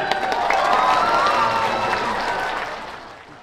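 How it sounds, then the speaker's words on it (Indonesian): Sustained applause from a large crowd at a Samarinda mayor's community event, dense clapping with some cheering, steady then tapering off toward the end. "Tepuk tangan."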